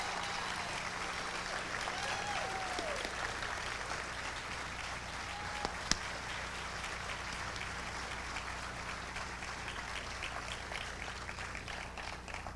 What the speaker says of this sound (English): please give a big round of applause for Chief Doug Waller